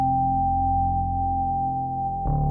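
A low, steady synthesized sine tone holds for a couple of seconds with a washy reverb tail, then a brighter shift in the sound near the end.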